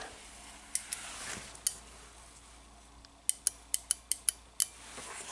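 A Toyota Camry EGR solenoid hooked to a battery clicks sharply, a few scattered snaps at first and then a quick run of about seven crisp, close clicks in a quiet room.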